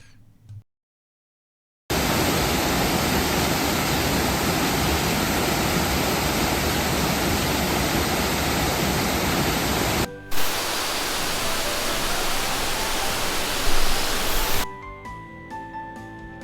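Water in the Kojirakawa gorge of the southern Alps rushes over granite, with a waterfall in the stream bed producing a dense, loud, continuous roar after a brief silence, then shifting to a slightly lighter flow.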